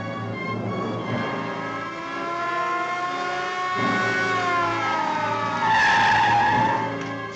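A 1954-era car skids after its tires are shot out, giving a loud sustained tire squeal that wavers in pitch over engine roar and grows harsher toward the end, with no talking.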